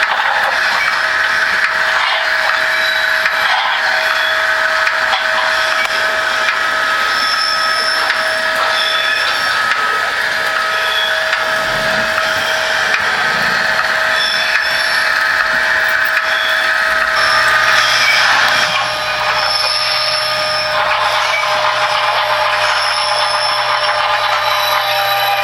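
A Märklin model locomotive's onboard sound effects play as a steady mechanical whirring with sustained electronic tones and faint ticking, holding at an even level for the whole stretch with no talking.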